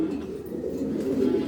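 A pied pigeon in a loft coos steadily close by, a low throaty rolling murmur lasting throughout, swelling slightly toward the end.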